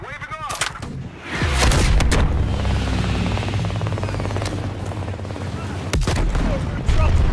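Heavy gunfire and artillery-like blasts in Call of Duty: Black Ops Cold War, a loud sustained roar of shots under a helicopter-like rumble, with sharp bursts near the start and end.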